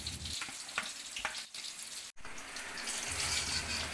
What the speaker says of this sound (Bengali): আলু লাল করে ভাজা হয়ে গেছে